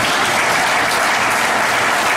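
A church congregation bursts into loud, dense applause, many hands clapping in an even, unbroken roar close by, with no voices standing out.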